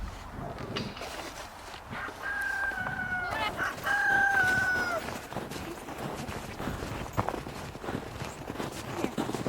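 Backyard chickens cluck and a rooster crows at a homestead, with a drawn-out crow rising clearly midway over scattered clucks, footsteps and faint background noise.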